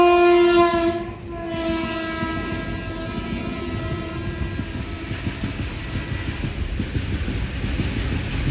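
A train horn sounds briefly, then a steady rumble and rhythmic clatter of the Panvel Nanded Express railcars rolling into Osmanabad railway station, loud and close.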